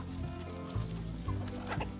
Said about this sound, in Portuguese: Aqui no nosso criatório nós temos uma criação de galinha bem diversificada